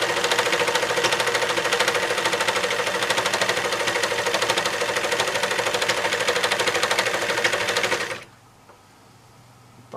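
A serger overlocker machine runs at speed, stitching and trimming fabric edges with a loud, rapid, even mechanical chatter for about eight seconds before stopping abruptly, leaving quiet.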